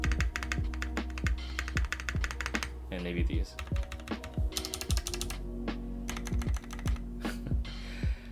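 A rebuilt Polaris75 mechanical keyboard is typed on steadily, giving dense, rapid clacking keystrokes under a low hum, with a brief spoken line partway through.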